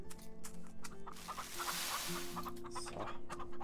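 Game chickens on a farm in Farm Together cluck in short, repeated bursts over a soft musical backdrop, fairly close and moderately loud.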